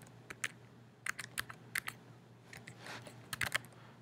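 Irregular bursts of clicking keystrokes on a computer keyboard while IP details are entered for a DHCP scope on Server 2012, close and alone in a quiet room.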